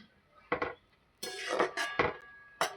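Pumpkin greens being stirred in a pan make a few separate scrapes and clinks of a utensil against the metal, close and fairly loud, with short quiet gaps between them.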